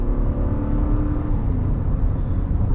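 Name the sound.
Ram 3500 Big Horn pickup kicking down, accelerating on highway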